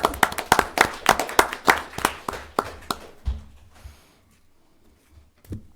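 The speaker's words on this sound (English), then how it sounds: "So I'm clapping for that" A handful of people clap at a school board meeting to celebrate teachers, sharp distinct claps in an irregular rhythm that thin out and stop after about three seconds, leaving near silence with a last faint clap.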